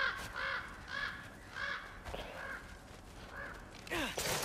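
Raven cawing in the video game God of War Ragnarök, a series of harsh repeated caws in short bursts, fairly close and loud over a faint ambient background.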